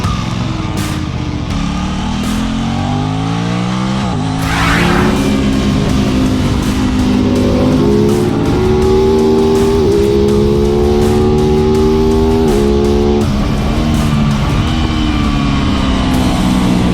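A 2021 Aprilia RS660 sport motorcycle laps a racetrack, its engine loud and continuous with repeated rising pitch sweeps broken by quick gear shifts at high revs.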